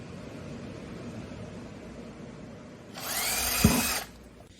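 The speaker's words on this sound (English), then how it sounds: "on where this small hole is going to be, we're going to carefully drill" After a quiet stretch, a power drill whirs for about a second, ending with a brief grinding bite as it drills a small hole for a model horse saddle rack.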